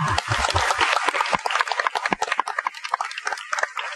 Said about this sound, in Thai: ขอเสียงปรบมือให้เกียรติท่านด้วยค่ะ